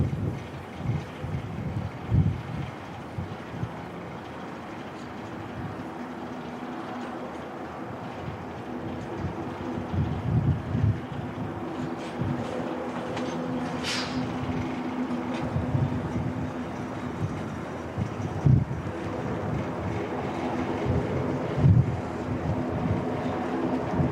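A strong northerly wind blows at Christchurch Airport, New Zealand, buffeting the microphone with low, gusty rumbles. The roar rises and falls throughout with brief louder gusts and no voices.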